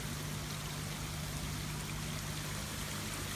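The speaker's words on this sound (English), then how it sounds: "Basically water running straight into the pond." Water from two large bucky shower filters pours steadily into a koi pond, a continuous close splashing rush with a low hum underneath, no voices.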